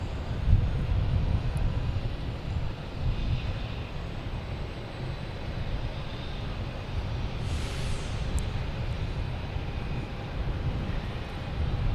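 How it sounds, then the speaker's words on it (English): Virgin Atlantic Airbus A330-300 taking off from runway 22 right at Boston Logan, a steady low jet engine roar held at a distant, even level throughout with no talk. "Virgin Atlantic heading to London Heathrow, the A330-300."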